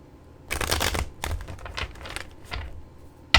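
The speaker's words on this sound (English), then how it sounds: "when I cut the deck" A deck of tarot cards is cut and shuffled close by, giving several quick papery riffles and slaps in short bursts, ending with a sharp tap.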